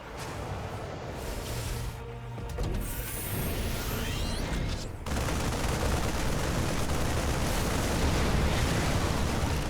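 Siege tanks firing in StarCraft 2, a dense run of booming blasts and overlapping explosive shots with a steady battle din that grows louder partway through, with no voices.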